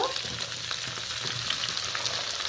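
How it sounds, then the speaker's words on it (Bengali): Mixed vegetables, including pumpkin, ridge gourd and long beans, sizzle softly in a pan with a little oil, a steady frying hiss under occasional stirring. "সব সবজিগুলোকে আমি ভালো করে নেড়ে ফেড়ে সাথে ভালো করে নেড়ে ফেড়ে দেবো"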